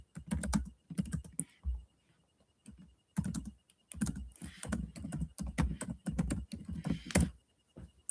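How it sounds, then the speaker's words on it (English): Someone types a message on a computer keyboard, producing close, crisp key clicks in quick bursts separated by short pauses, with no talking. "I'm going to type that in the chat."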